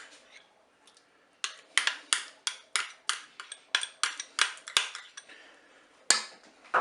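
Crème fraîche spooned into a Cookeo electric pot, a close run of sharp, regular spoon taps and scrapes against the metal bowl, loud and fairly rhythmic.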